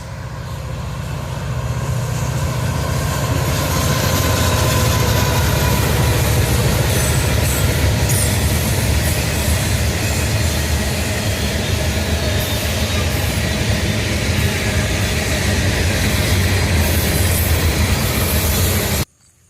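A single-engine train passes close by on a main line, a loud continuous rumble of railcars and wheels with clattering and faint squeals, sustained for nearly twenty seconds before cutting off.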